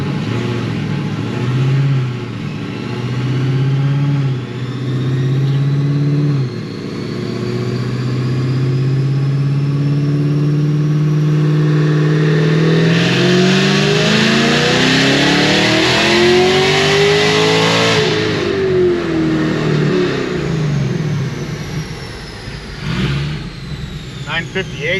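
A Magnuson-supercharged 2650 Cadillac CTS-V engine revs up and falls back, several climbing pulls then one long rising sweep near the end, loud and close with a few voices over it.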